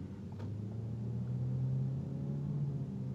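Ford Focus with an automatic transmission fault accelerating, a low engine drone climbing steadily in pitch as revs rise, with a faint clunk of a hard gear shift near the start, heard from inside the car.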